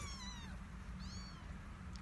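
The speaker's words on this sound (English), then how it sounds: "I found a kitten." Two faint, high kitten meows rise over a steady low background hum, spaced about a second apart.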